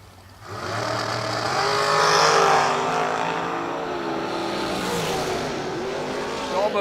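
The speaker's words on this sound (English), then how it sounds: "Tower side in the black dragster, Tom Stauba, 468." Dragsters launch at a drag strip in a loud, sustained engine roar that builds quickly and then holds steady for several seconds, heard fairly close without talk.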